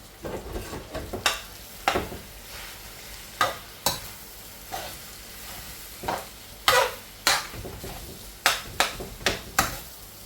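Pre-cooked rice is stirred into a sizzling meat mixture in a pan for a Thai and Tex-Mex fusion dish, with steady frying hiss and repeated sharp scrapes of the spoon against the pan, heard up close.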